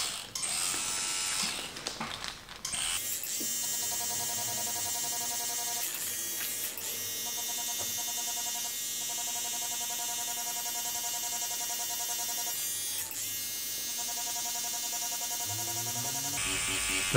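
A tattoo machine needle shading skin on a realistic skull tattoo, a steady close electric buzz that runs almost continuously after a brief rustle at the start, with short dips as the needle lifts away.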